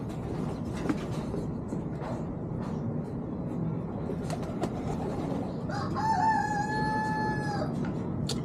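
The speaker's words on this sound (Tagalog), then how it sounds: "Mga ibon natin para. Yan ang ating mga barako par." Gamecocks kept by a Filipino breeder crow near 6 s, one drawn-out call over steady outdoor background noise, the earlier seconds holding only ambient rumble.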